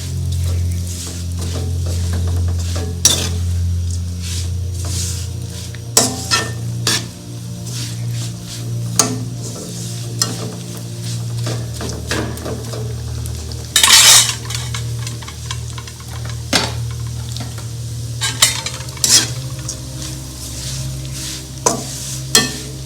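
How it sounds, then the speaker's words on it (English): Ikan bilis, small dried anchovies, fry lightly in oil in a pot while a utensil stirs and scrapes against the metal, giving a steady close sizzle broken by frequent clinks and rasps. "So I'm going to put the ikan bilis in, all of it. I'm just going to fry it very lightly."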